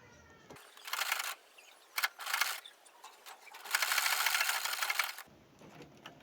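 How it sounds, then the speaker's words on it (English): A sewing machine stitches a half-inch seam along the neckline of a cowl bubu, running in short bursts and then a longer steady whirring run, close and clear with no talking. "I'm going to stitch with 1/2 inch to the neckline"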